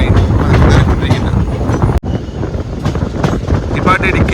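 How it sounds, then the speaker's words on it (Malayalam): An Intercity Express train creeping slowly into a platform, with loud rumbling and clattering heard from nearby, buffeted by wind noise and broken by a sharp jolt partway through. "പതിയെ പിടിച്ച് പ്ലാറ്റ്ഫോമിലൂടെ കയറാനുള്ളൊരു തയ്യാറെടുപ്പിലാണ് ഇപ്പോൾ ട്രെയിൻ കയറിക്കൊണ്ടിരിക്കുന്നത്"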